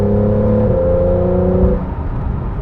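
A Porsche 911 GTS of the 991.1 generation with its 3.8-litre flat-six revs up hard and loud from close by, its rising note dropping at a gearshift partway through and then settling, with no talk.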